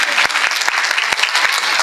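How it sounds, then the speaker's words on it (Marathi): Dense applause from a fashion show audience in Nanded, Maharashtra, many hands clapping steadily and loudly with no pauses. "एकदा टाळ्या वाजवूयात बरं"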